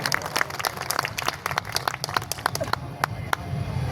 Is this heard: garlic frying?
no